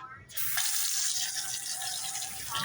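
Tap water runs steadily into a sink as aphids are rinsed off sweet potato slips, a broad continuous splashing hiss that starts abruptly and holds for a few seconds, close and fairly loud.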